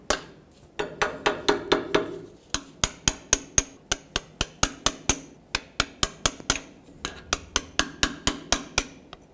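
Sharp metallic hammer blows knocking loose a tie rod sleeve on a 2008-2010 Ford F-250, around thirty ringing strikes in quick rhythmic bursts with short pauses between runs.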